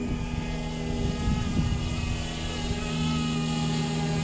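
A DJI Mavic Mini drone flies in to land, its propellers giving a steady high-pitched whir that hums nearby and holds fairly even throughout. Nobody talks.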